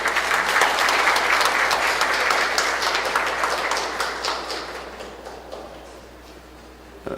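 Sustained applause from a sizable audience at a CEO forum, loud at first and gradually fading over several seconds.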